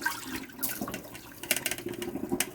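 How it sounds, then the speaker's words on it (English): Cloudy rinse water from rice being strained off and poured away, giving a close, uneven splashing and trickling that runs on without a break. "Strain the rice and do it again."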